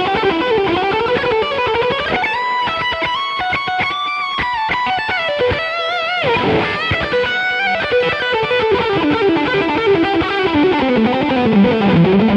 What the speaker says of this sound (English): the delay and reverb that you're hearing is courtesy of the Aux, which is Universal Audio.